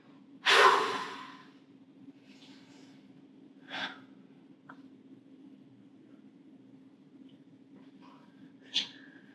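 Heavy breathing during a relaxed table-talk conversation: one strong, rushing exhale near the start, followed by a few softer, scattered breaths over a steady low hum.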